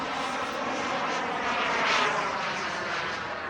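A radio-controlled model airplane fitted with a pulsejet engine makes a loud, continuous roaring drone that swells slightly around the middle as it passes, with no speech.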